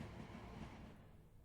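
A commuter train in Train Sim World 4 pulls into London Victoria, giving a steady, fairly faint rumble of rolling stock that eases slightly toward the end.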